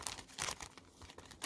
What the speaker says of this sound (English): confetti inside plastic bag.